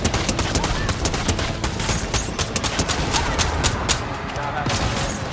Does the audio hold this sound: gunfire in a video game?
yes